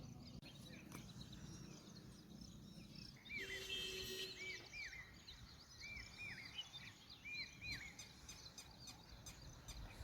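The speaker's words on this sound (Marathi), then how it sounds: "एक पक्षी इथे आवाज करत आहे चुक आणि दुसरा पक्षी म्हणत आहे" Outdoor morning birdsong at low level, with repeated short two-note calls from one bird and other chirps and insect buzzing over a faint background, no talk.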